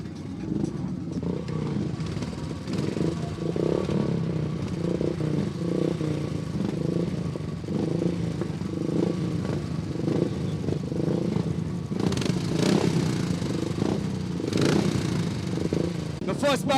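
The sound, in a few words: Royal Enfield motorcycles practicing on flat track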